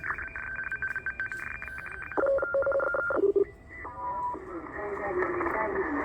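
A radio receiver tuned near 12000 kHz outputs a loud, steady data-like warbling radio teletype tone, likely a U.S. Navy station, with shifting pitched beeps under hiss and a faint voice.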